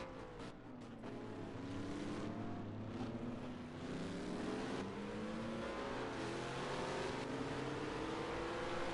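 GT3 race cars pass on the Zolder circuit, engines droning and shifting in pitch as they go by, a steady loud mechanical roar with no break.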